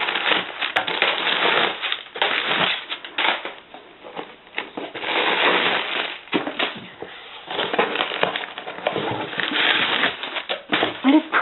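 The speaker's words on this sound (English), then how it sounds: "Got some packing material on top." Packing material is crinkled and shuffled around printed books in a shipping box, a close, continuous papery rustling with uneven bursts throughout.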